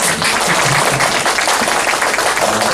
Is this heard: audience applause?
yes